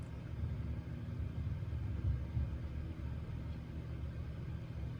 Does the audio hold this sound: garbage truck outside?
yes